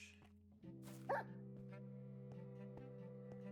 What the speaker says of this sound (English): See, that's a normal bark